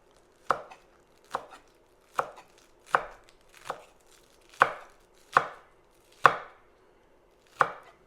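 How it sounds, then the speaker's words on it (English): A kitchen knife chops carrots and green onions on a board, giving eight crisp, evenly spaced chops at close range with no talking. "the carrots are cut, the green onions are cut, or scallions."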